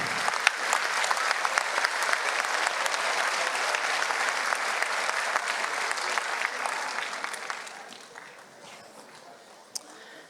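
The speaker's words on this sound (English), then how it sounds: "So would you give a round of applause to them one more time?" A concert audience gives a full, dense round of applause at a school choir event. The clapping holds steady for several seconds, then thins and fades toward the end, leaving a few scattered claps.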